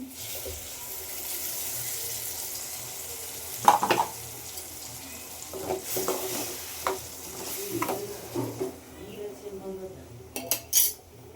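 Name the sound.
ground tomato paste added to fried onions in a pan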